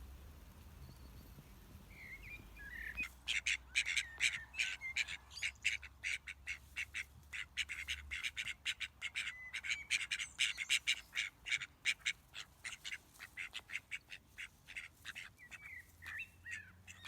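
Molting mallard ducks preening, with a dense run of rapid quacks and squawky calls starting suddenly and continuing in close, fairly loud bursts, with quieter chirps toward the end.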